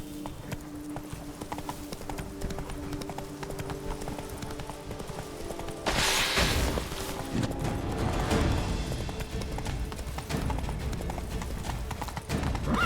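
A horse gallops in The Witcher 3: The Wild Hunt, a fast, continuous clip-clop of hooves close by that grows louder partway through, with game sounds in the background.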